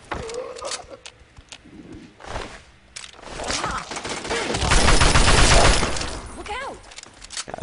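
Gunfire from a weapon in the Fallout video game, a stretch of loud, rapid shots building in the middle of the clip amid clattering game effects, with a player's voice now and then.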